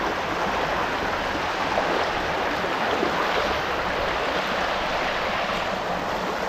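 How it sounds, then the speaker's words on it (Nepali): Heavy, swollen river water surges past at close range, a broad continuous roar with slight swells and some wind buffeting on the microphone, no voices over it. "पानीको फोर्स निकै छ"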